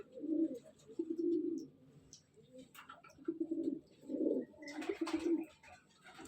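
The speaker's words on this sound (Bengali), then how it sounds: "আশা করি পায়রা দেখলে আপনাদের মন ভরে যাবে।" Racer, madraj and giribaz pigeons coo in a loft, repeated low throaty rolls in short bursts with pauses, soft and nearby, with a brief rustle of faint background noise.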